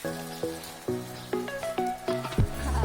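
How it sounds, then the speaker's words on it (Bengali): A garden water sprinkler of the kind used in tea gardens, spraying water over an areca nut plantation, with a series of rhythmic ticking bursts about every half second over a soft wet patter. "স্প্রিংকলার অন হয়ে গেছে।"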